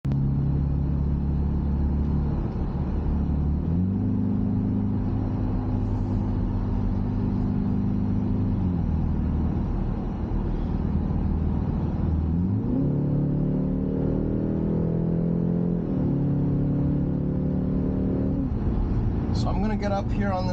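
A 2025 BMW X3 30 xDrive driving on a road test, with a steady interior engine drone and road rumble climbing and settling through gear changes, and a voice talking over it the whole way.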